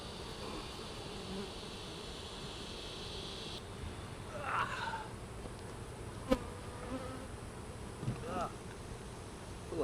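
Honey bees drone steadily at a hive fitted with a pollen trap, a close continuous buzz with a few brief knocks and rustles over it.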